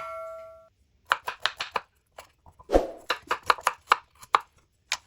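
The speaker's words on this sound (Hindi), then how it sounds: "इस तरह आपने माशाल्लाह सारी गाजरों की कटिंग कर लेनी है" Carrots chopped by hand on a board for gajar ka halwa, a quick run of sharp, close knife taps in bursts with brief pauses between them, clear and alone.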